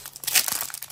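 A Pokemon Paldea Evolved booster pack's foil wrapper crinkles and tears open by hand, a brief, close, crackling rip lasting under a second.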